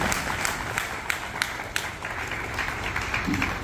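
A gathering at a cow shelter claps for a saint's arrival, with steady crowd applause and scattered sharper claps continuing throughout.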